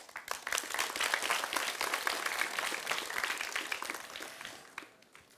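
A studio audience at a quiz show applauds warmly for a guest, a dense burst of many hands clapping that holds steady and then fades out near the end, with no talking.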